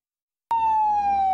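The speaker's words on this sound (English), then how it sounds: "These blaring sirens can be the difference between life or death." A single loud emergency vehicle siren tone suddenly blares out of silence and holds steady, close and clear, with no talking.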